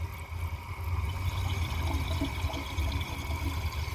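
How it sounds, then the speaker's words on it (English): Water poured steadily into a 2007 Toto Lloyd toilet bowl, a continuous splashing gush close by with no voices. "So let's add some water to the bowl."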